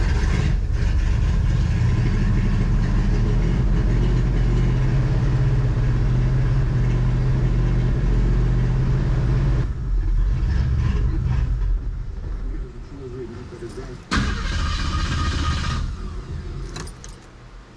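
The engine of a 1972 Ford Ranchero being restored turns over and runs, a steady loud rumble with some metallic rattle. Toward the end it dips and breaks off with a brief clunk.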